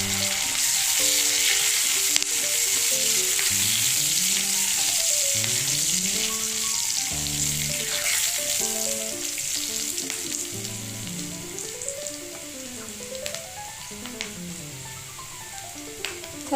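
Pan of oil sizzling steadily as panch phoron, a bay leaf and dried and fresh green chilies fry for a Tori fish curry, a continuous close hiss with soft stirring clatter and music playing underneath.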